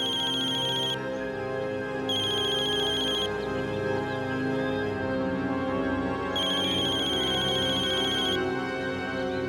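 A phone ringtone plays in bursts of electronic tones over a steady music bed from a Hindi TV crime drama, repeating with short gaps between rings.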